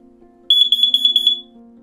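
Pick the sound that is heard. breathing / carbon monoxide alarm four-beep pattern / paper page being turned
carbon monoxide alarm four-beep pattern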